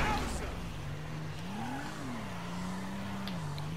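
A car driving in the video game GTA 5; a steady engine drone that rises and falls gently in pitch over game ambience, with no one talking over it.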